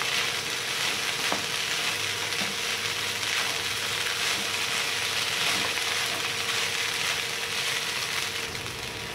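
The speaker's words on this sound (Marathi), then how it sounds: "गॅसची फ्लेम थोडीशी हाय ठेवायची आणि पोहे चांगले मिक्स करून घेऊया आपण" Poha frying on a high flame, a loud, steady close sizzle with occasional stirring scrapes in the pan, continuous and without voices.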